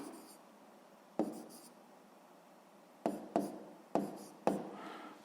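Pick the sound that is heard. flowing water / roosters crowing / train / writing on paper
writing on paper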